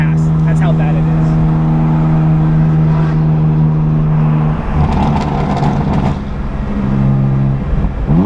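A BMW F82 M4 with a burble tune idles and cruises with a steady droning exhaust, then crackles and pops off throttle midway through, loud and close throughout.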